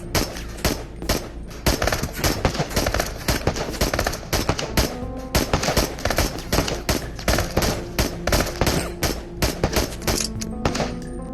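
Rapid full-auto pistol fire in the Into the Radius VR game, dense continuous bursts of loud close gunshots with brief gaps over several seconds.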